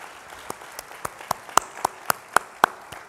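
Audience at a leadership spotlight event giving a sparse, slow round of applause, with individual sharp claps at a steady rhythm standing out over a faint background.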